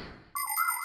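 An animated cartoon parrot imitates a telephone ringing: after a brief quiet moment, a bright electronic trilling ring starts abruptly and carries on to the end.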